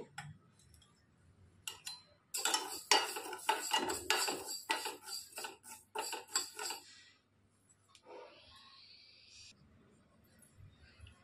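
A metal spoon scrapes and clinks against a pan on the stove as fenugreek seeds are roasted and stirred, in a quick run of rattling strokes that taper off into faint frying.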